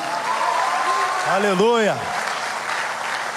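Congregation applause during a church sermon, a steady wash of clapping under a voice as he calls out an exclamation in Portuguese.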